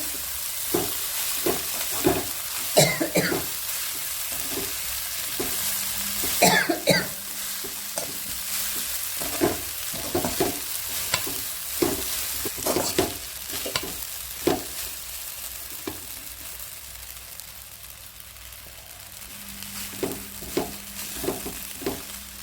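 Ragi vermicelli upma being stirred in a pan: repeated scraping strokes and taps of a spatula in an uneven rhythm over a soft continuous sizzle, close by, with no talking.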